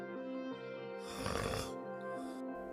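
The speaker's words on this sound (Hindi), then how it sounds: "और बलराम लेटकर शीघ्र खर्राटे भरने लगा।" A man snoring in a rough, droning rhythm, with a louder rasping snore in the middle; close, with a hum of tones beneath and no speech.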